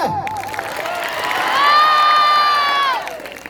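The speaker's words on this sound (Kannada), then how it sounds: "ಚಪ್ಪಾಳೆ" An audience at a stage event cheers after a song, with a brief burst of crowd noise at the start, then a long rising whoop held for over a second before fading, shouting children mixed in.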